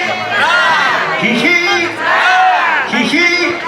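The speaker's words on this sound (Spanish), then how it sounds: "Y hacemos 3 hurras por los mayordomos y por Santa Rosa" A crowd at a patron saint festival for Santa Rosa de Lima shouts three rousing hurrahs for the festival stewards, with three loud rising group cheers in a steady rhythm.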